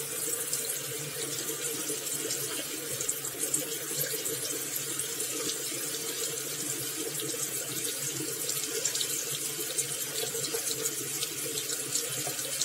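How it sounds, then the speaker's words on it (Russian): Hot water streaming steadily from a tap fed by an Oasis KP-P tankless water heater at a country house, a constant close hiss and splash with no pauses. "Вот уже горячая вода пошла."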